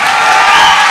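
Audience applause, a brief, loud wash of dense clapping from a crowd, sustained evenly for under a second.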